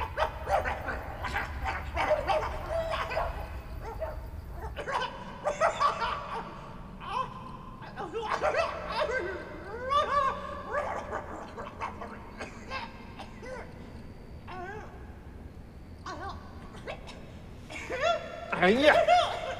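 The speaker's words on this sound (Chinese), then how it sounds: "啥破狗叫什么玩意儿呢？ 大半夜搁这嗷嗷叫" A dog barks and howls repeatedly late at night, in irregular bursts, while people talk and laugh over and between the barks.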